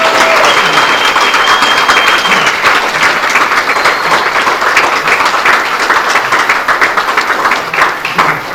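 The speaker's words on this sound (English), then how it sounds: "I'd like a round of applause for our new Eagle Scout." Sustained audience applause at an Eagle Scout Court of Honor, loud and steady clapping from a full room for the whole stretch, tapering only slightly toward the end.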